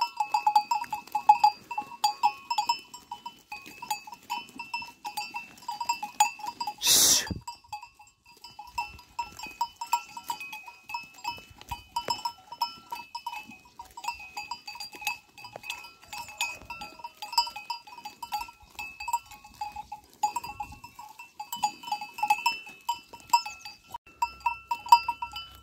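Sheep grazing in a field at sunrise, with occasional bleats and a bell-like tone scattered across a quiet open-air background, plus one sharp brief noise burst partway through; no talking.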